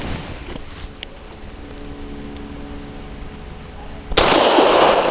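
A single loud pistol shot from a Wilson Combat SFT9 firing Federal Syntec 150 grain ammunition cracks out near the end, after a stretch of steady outdoor background noise.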